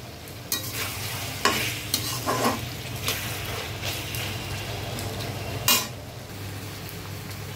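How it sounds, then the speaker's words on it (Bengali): Potatoes fry in oil in a pan for khichuri, a steady sizzle broken by several clear scrapes and clinks as a utensil stirs them. The sound is close, with no talking. "এবার হচ্ছে পটেটো ফ্রাই, আলু ভাজা"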